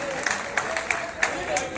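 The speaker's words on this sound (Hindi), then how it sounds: "ऐसे सरपंच साहब के लिए जोरदार तालियों से इनका स्वागत।" Brief burst of audience clapping welcoming a village sarpanch at a Brahmin community gathering, individual claps standing out in a short rhythmic patter while a voice talks over it.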